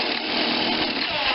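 A power drill grinds steadily and loudly through metal, drilling out a broken bolt on a Vermeer BC625A wood chipper, one continuous high-pitched whine with no pauses.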